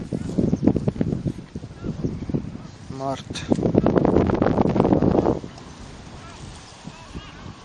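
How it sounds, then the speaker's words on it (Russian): Strong wind gusting at a fishing spot on an estuary in Kherson region in March, a steady rushing roar buffeting the microphone beneath a man's speech, with a short honk-like call in the middle. "Сильный ветер."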